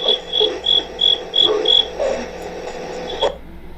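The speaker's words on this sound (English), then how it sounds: "There's a cricket that's absolutely loud" A loud insect chirps in repeated short bursts on a nighttime camera recording, about six evenly spaced pulses followed by a pause, with faint low rumbling and croak-like sounds underneath.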